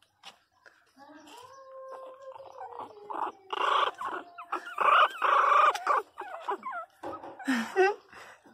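A nervous chicken clucks close by in a run of throaty calls and squawks, with people talking over it.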